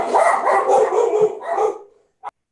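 Dogs bark and howl in a loud, ragged cluster nearby for about two seconds during an outdoor meeting, fading out, followed by one short sharp yip.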